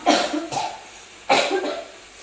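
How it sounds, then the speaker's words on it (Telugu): Two dry, hacking coughs close by, each a short rough burst with a pause between them. "కొంచెం దగ్గు వస్తుందండి పొడి దగ్గులాగా వస్తుంది"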